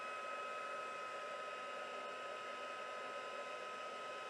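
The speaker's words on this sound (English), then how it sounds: "I've got my heat gun" A heat gun blows steadily onto a surface being gilded, giving a continuous, even airflow hiss with a whining tone that holds unbroken and fairly close throughout, with no talking.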